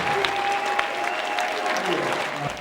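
A crowd of about 400 gives a standing ovation at a town hall, with sustained, dense applause that holds steady at full strength throughout, close and loud, with scattered voices mixed in.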